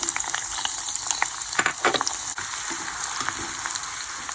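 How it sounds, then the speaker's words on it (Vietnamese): Shallots sizzle and crackle in hot cooking oil in a pot, a steady dense frying hiss with scattered pops, close and continuous throughout. "Thử dầu đã nóng rồi mình cho hành vô."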